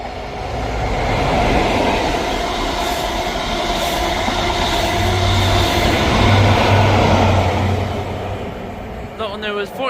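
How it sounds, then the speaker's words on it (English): A ScotRail train from Aberdeen passes through Ladybank station, giving a steady loud rumble with rail clatter throughout, under a voice announcing the service. "Passing through now is a ScotRail service from Aberdeen to Edinburgh Waverley."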